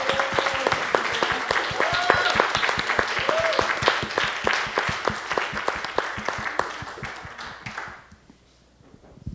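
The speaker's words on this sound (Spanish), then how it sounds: "Aplauso para nuestra performance." Applause for a performance at a panel discussion on audience and stage, loud and sustained with distinct individual claps for about eight seconds, then fading quickly into near silence.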